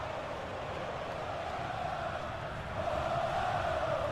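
A stadium crowd in a video game football match roars steadily, a dense, sustained wash of massed voices that swells slightly louder toward the end, with no distinct individual sounds standing out.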